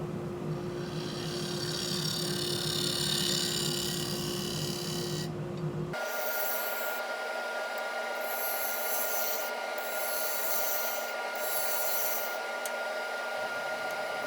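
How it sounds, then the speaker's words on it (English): A bowl gouge cuts a spinning maple burl on a wood lathe, producing a continuous close rough scraping and rushing noise that shifts tone midway, with a high faint whine in the background and no speech. "with the bowl gouge, again, just truing up what will be the bottom before I make the tenon"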